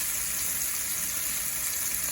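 A beef patty sizzling in a hot pan for a patty melt, a steady, even hiss and crackle heard alone at moderate loudness.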